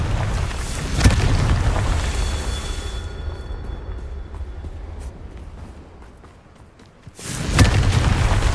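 Confringo fire spell in Hogwarts Legacy, a loud booming blast at the start, a second sharp impact soon after, a fading rumble, then another heavy burst near the end.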